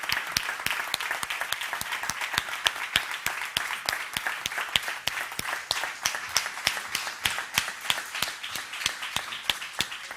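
An audience at an entrepreneurship awards ceremony claps for the coordination team as they come up, a long run of sharp, distinct hand claps that keeps an even, lively pace from start to finish.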